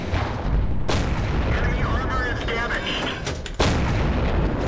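Tank cannon fire in World of Tanks, with a KV-1 shooting back: a broadband boom near the start and a second sharp blast near the end, set against steady battle rumble and low engine noise.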